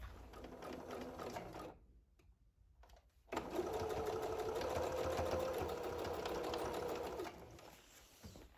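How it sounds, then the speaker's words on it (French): Sewing machine stitching a straight seam on lingerie fabric, a steady close whir in two runs, a short burst then a longer continuous stretch after a brief pause. "je vais faire une couture toute droite"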